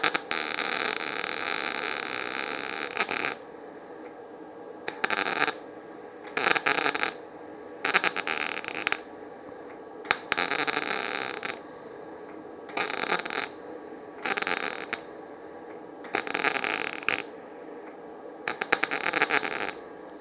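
A YesWelder MP200 multi-process welder lays down a weld in bursts of loud, crackling arc hiss, about ten short runs of one to three seconds each, separated by quiet gaps with a faint hum.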